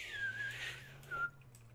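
Within the H1Z1 video game, two short high whistles sound close by, a first gliding tone followed by a briefer one, over a low steady background hum.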